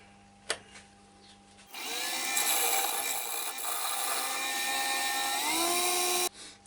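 A wood lathe spins a maple platter while a tool cuts away glue residue, giving a steady, fairly loud scraping whir with shifting tones that starts after a quiet moment and cuts off near the end.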